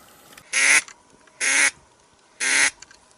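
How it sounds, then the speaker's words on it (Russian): Three evenly spaced raspy duck quacks outdoors, each about a quarter second long, loud and close against a quiet background. "Утки есть."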